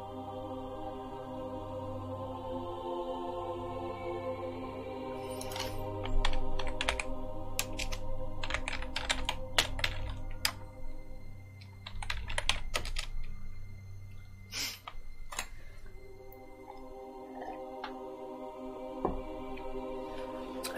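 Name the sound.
typing on a computer keyboard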